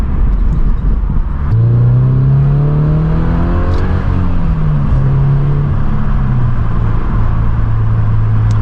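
A car drives along Bayshore with its engine revving up and down in rising and falling sweeps, a steady loud drone that fills the whole stretch, close to the listener, with no talking.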